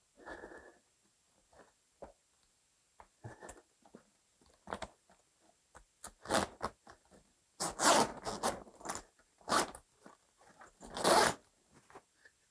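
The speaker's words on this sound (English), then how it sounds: "you need to engage the other half of the zipper" A zipper on a Gorilla grow tent extension kit is pulled in a series of short, scratchy zips, quiet and sparse at first, then louder and longer rasping runs near the end, close up with no talking.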